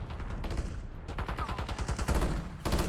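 Rapid, loud gunfire from Call of Duty Black Ops 6 ranked play, with dense automatic bursts and shots rattling almost continuously throughout.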